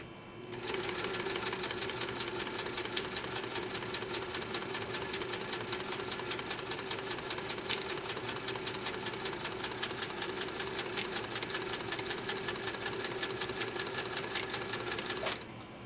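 A Kenmore sewing machine runs continuously, its needle stitching through thick genuine cowhide in a fast, even mechanical chatter with a steady hum underneath, close and uninterrupted for about fifteen seconds before stopping.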